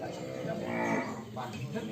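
An Ongole crossbred (PO) white cow at a breeding and conservation site lets out one long, drawn-out moo that rises and falls over almost two seconds, close and clear, with no talk over it.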